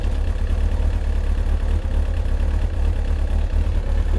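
A Kawasaki ZX-9R superbike with a freshly replaced clutch runs in first gear, its engine a steady, loud low rumble that holds constant throughout with no voices.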